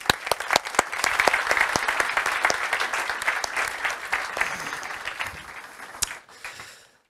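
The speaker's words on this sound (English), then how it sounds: "Let's give them a warm applause." An audience at a youth summit for the 2024 NATO Youth Summit Challenge winners breaks into steady, dense applause that fills the room at fairly close range, holding for several seconds before tapering off at the end.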